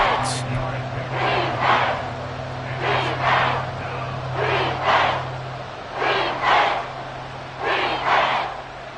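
A loud Seattle Seahawks home crowd roars through an NFL game. The broad, steady rumble swells and surges rhythmically while a commentator talks over it.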